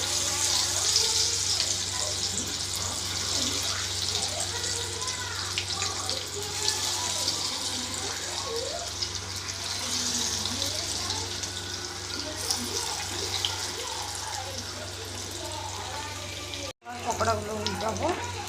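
Pakoras fry in oil in a pan, giving a dense, steady sizzling hiss with bubbling and spattering that continues close up for the whole stretch and cuts out briefly near the end.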